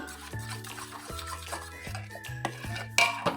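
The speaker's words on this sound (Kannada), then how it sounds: "ಸ್ವಲ್ಪ ಚೆನ್ನಾಗಿ ಮಿಕ್ಸ್ ಮಾಡಿ ಹಾಕಿ ಅದನ್ನು ಕೂಡ ತಿರುಗಿಸಿ" A mango ice cream mixture being stirred in a pan, with a spoon scraping and clinking against the metal in a steady, close rhythm and a sharper knock near the end.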